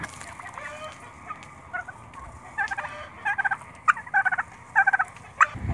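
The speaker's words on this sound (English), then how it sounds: "Turkeys are in the garden enjoying the tomatoes." Several turkeys gobble in short bursts in a garden among tomatoes, the calls growing louder and more frequent toward the end over a quiet outdoor background.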